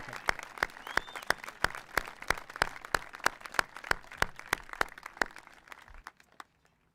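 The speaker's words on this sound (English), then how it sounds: "One round of applause to our graduates." Applause for graduates at a high school graduation ceremony, heard as sparse, distinct claps in a steady rhythm that stop after about six seconds.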